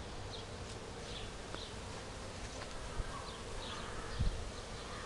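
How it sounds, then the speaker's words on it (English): A dense, steady buzz of thousands of honeybees flying in and out of a hive in a summer garden, individual bees droning past close by against the constant hum of the swarm. "Gotta look at bees flying in and out, thousands per minute."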